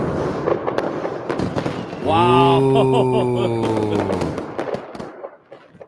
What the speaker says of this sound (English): what do I got to do to get some fireworks?